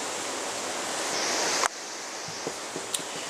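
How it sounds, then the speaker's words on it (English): Strong wind blowing outdoors makes a dense, loud broadband rush that fills the scene, then drops sharply partway through, leaving a few faint thumps and light clicks behind it. "so you'll hear the wind doing a lot of tricks and things"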